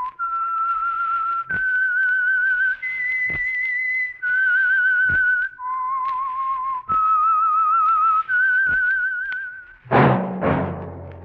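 A lone, clear whistled melody, the eerie theme signal of the old-time mystery radio program sponsored by Signal Oil, runs in sustained notes broken by short pauses, ending with a brief burst of music.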